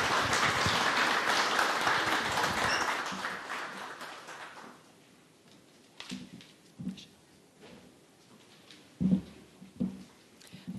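An audience claps in applause after a presentation at a closing event of a training series. The clapping is loud and sustained for about five seconds, then fades out. A few faint scattered sounds follow.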